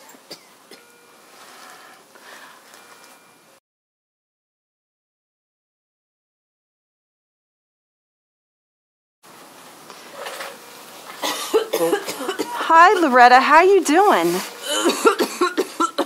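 A burn patient in a simulation video game coughs in a loud, close, ragged burst near the end, following a short spoken greeting and a stretch of silence.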